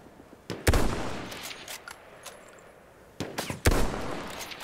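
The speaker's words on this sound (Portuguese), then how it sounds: "Onde tá rolando tiroteio?" Battlefield 1 gunfire from a PC match, two distinct clusters of loud close shots with sharp cracks, separated by quieter stretches of scattered distant firing.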